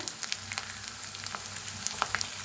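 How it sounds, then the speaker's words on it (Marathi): Garlic masala with curry leaves, turmeric and red chili powder fries in oil in a pan, giving a faint, close sizzle with scattered light crackles and pops. "आता लसूण मसाला भाजलाय बघा त्याच्यात टाकूया हळद लाल तिखट एक चमचा"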